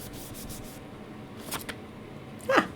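Hand rubbing down a stamped paper piece, a soft continuous scuffing and brushing at close range, with a few brighter scratchy strokes near the end.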